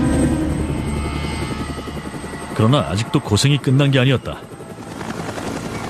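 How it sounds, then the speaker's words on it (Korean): A helicopter arriving to pick up special forces troops and pilots during a covert military operation, its rotor beating in a steady loud chop under and between a narrator's voice speaking Korean. "SOG 대원들과 헬기 조종사들을 데려가기 위해 또 한 대 헬기가 도착했다."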